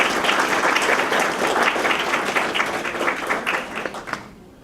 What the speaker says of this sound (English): give a round of applause to everyone that helped with that